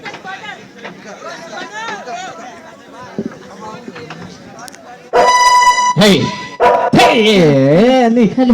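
Dogs barking and yelping loudly nearby in a burst of several sharp barks and whines, following a stretch of background chatter and talking.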